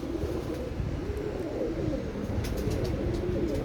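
A pigeon coos steadily in a low, continuous murmur, close and unbroken, prized as a good flyer, with a few faint higher chirps toward the end and no talk.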